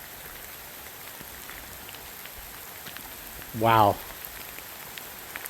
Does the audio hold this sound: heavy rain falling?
yes